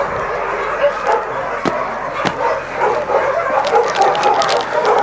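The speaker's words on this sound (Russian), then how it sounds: "Собаки просто разрываются" Many dogs at an animal shelter bark and yip at once in a dense, continuous chorus, near and loud, with sharp individual barks standing out over a steady din.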